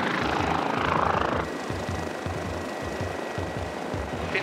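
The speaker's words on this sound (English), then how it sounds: "Vibrations on the Westpac rescue chopper" A Westpac rescue helicopter thuds steadily from inside the cabin in flight, its rotor beating in a regular low rhythm under a constant engine whine.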